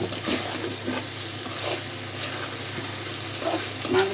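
Stinging catfish (shing fish) dropped into a hot pan to fry for a potato fish curry, giving a steady broadband sizzle with crackling bursts and spattering, close and fairly loud, with no talking.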